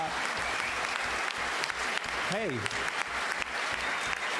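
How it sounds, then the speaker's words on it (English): An audience at a Halo 4 presentation applauds in a sustained, dense burst of clapping filling the room, while a presenter speaks over it and a brief electronic tone rises and falls midway. "you're all applauding"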